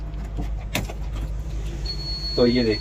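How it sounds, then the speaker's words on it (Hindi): Inside the cabin of a 2023 JCB 3DX Plus backhoe, a steady electronic beep sounds after the key is inserted, joined by a short warbling tone, with someone talking briefly over it. "आप जो आवाज़ सुन रहे होंगे एक बीप की आवाज़ आपको सुनाई दे रही होगी"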